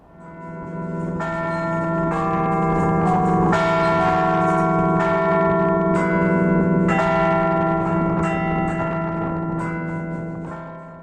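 The church tower bells of the Torre dos Clérigos in Porto ring out in a loud, resonant peal, strokes overlapping and swelling, then gradually fading toward the end.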